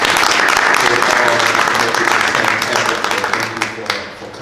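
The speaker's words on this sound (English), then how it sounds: "We just want you to raise your hand so we can give them a round of applause." Loud, steady applause fills a town hall meeting room as elected officials in the crowd are recognized, tapering off near the end.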